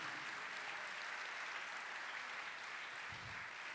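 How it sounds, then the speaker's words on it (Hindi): Applause from a church congregation during a sermon, a continuous dense wash of clapping at a low, distant level with no talk. "जोरदार तालियां खुदा बाप के लिए"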